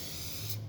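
An Astro spray paint can hisses out a steady burst, a bright continuous spray that swells slightly near the end before cutting off.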